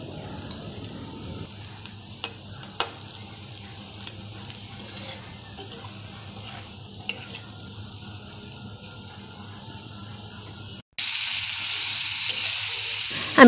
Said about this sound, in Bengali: একটু জল ছিটিয়ে ছিটিয়ে আমি কষতে থাকবো।